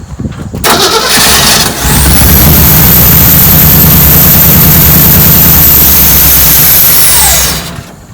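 A 1957 Chevrolet four-door wagon engine cranks briefly, catches and settles into a steady, loud idle close by, running evenly to the end with no talk.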